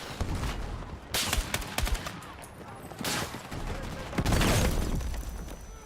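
Dense bursts of automatic gunfire and heavy shots in the Battlefield 6 video game, loud and close, in rapid volleys with short pauses, with a voice faintly present underneath.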